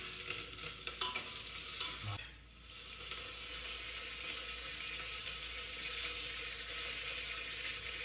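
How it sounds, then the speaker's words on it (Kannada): Onions and chillies frying in a pan with a bay leaf and capsicum, a close, steady sizzle with stirring and scraping strokes, a brief pause near the start, then continuous crackle. "ಈರುಳ್ಳಿ ಚೆನ್ನಾಗಿ ಫ್ರೈ ಆದಷ್ಟು ಕೂಡ ಚೆನ್ನಾಗಿರುತ್ತೆ"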